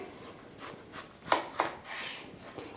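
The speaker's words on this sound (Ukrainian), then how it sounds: "Ось так також нарізаємо на пластиночки." Thin slices of a fresh vegetable being cut with a knife for a radish salad, a few soft crisp cuts and rubbing strokes close up on a board, quiet with no talking.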